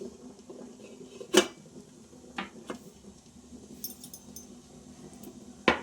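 A lid set over koi fish steaming in bottle gourd leaves, heard as a few sharp metallic clanks spaced apart against a quiet kitchen background, close by.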